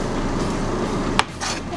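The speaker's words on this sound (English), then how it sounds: "pardon the noise if you can hear the air conditioning." A running air conditioner fills the room with a constant broadband whooshing hum, with a couple of brief knocks near the end.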